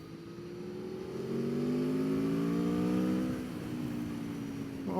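Aprilia Tuono V4 1100 Factory motorcycle engine revving up loud and close, rising then holding a steady high pitch before easing back, with a sharp blip at the end.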